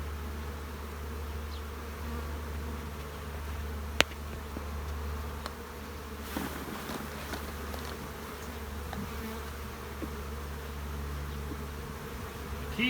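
Bees shaken from two frames crowd into a cell starter box, filling the air with a continuous close buzzing hum, with a few small knocks and rustles and no speech.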